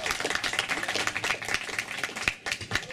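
Crowd applause at a motorcycle meeting, a dense, steady patter of many hands clapping throughout, fairly close and lively with a few sharper individual claps standing out.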